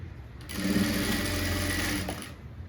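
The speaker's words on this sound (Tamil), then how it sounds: "இப்போ பாருங்கள், தைச்சி எடுத்தாச்சு பைப்பிங்." A sewing machine runs steadily for about two seconds, stitching piping onto a violet blouse; a close, continuous whirring hum that starts and stops cleanly, with no talking.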